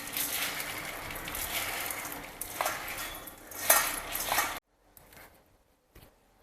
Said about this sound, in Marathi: हे बघा ही शेव आपण चुरून घेऊया आता